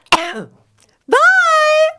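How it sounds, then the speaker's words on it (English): One sharp cough comes close to the microphone, followed after a short pause by a longer voiced sound. "I just want you to cough one more time into the mic"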